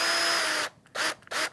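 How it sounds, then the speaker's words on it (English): A handheld power drill fitted with a 2 mm bit bores a pilot hole, starting with one sustained whine and then giving two short, loud bursts separated by near-silence. "I invite you first of all to make a pre-hole. This here was a 2mm drill"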